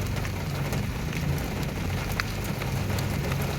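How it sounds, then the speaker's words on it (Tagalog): Heavy rain pours steadily in a dense, even hiss, loud and close throughout with no pauses and no voices. "Kaya tignan mo yung ulan naman siya."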